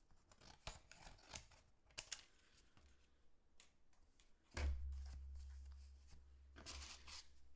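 Scissors trim vellum paper for an ornament, making a few faint, close snips and soft paper rustles, with a low steady hum joining partway through.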